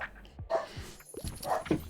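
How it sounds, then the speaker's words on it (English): A dog gives a few short barks and yips mixed with whimpering whines, fairly close, in bursts across a couple of seconds with brief quiet gaps in a room. "Pardon my dog."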